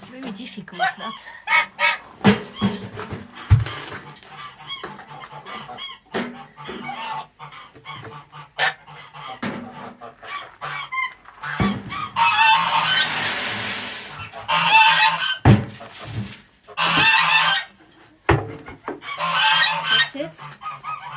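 An amorous gander honks loudly in repeated bursts of varying length, close by and in the evening, while people talk intermittently among the calls.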